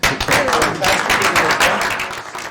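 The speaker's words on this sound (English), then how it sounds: "Can we give Chris an applause too?" Applause from attendees at a historic district commission meeting, a dense steady patter of many hands lasting a couple of seconds, with some voices mixed in.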